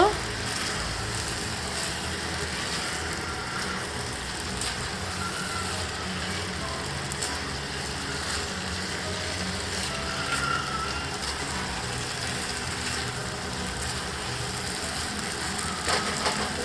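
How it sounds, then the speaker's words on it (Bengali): Soybean biryani mixture frying in a pan at home, a dense, steady sizzle and crackle that stays even and close throughout without a break. "কিছুক্ষণ ভাজা ভাজা মতন করে নেব"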